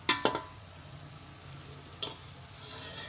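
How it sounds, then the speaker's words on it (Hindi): Rice poured into a pot of frying daal masala for green moong daal khichri: a steady low sizzle, broken by a short cluster of scraping, pouring bursts at the start and another brief burst midway. "अब मैं इसके अंदर डालूंगी चावल।"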